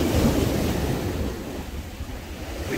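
Irish Sea waves wash back from the seafront steps at Blackpool in a steady, close roar of surf, with gusty wind buffeting the microphone throughout.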